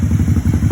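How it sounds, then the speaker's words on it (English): A Can-Am Spyder RT three-wheel motorcycle fitted with a GPR exhaust idles loud and close with a steady, deep, pulsing burble and no one talking. "GPR exhaust sound"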